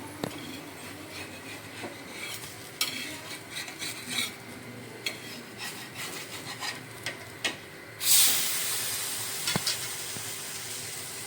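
A rava (semolina) breakfast snack roasts in a pan with a little oil, heard as faint scraping and tapping from a spatula over a low sizzle, then a louder burst of hissing as a piece is flipped.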